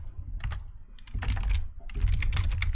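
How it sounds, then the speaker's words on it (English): Loud, close clacking of computer keys in quick irregular bursts with brief pauses between, typing dominating the clip with no voices over it. "Please ignore my horrifically loud typing and everything else."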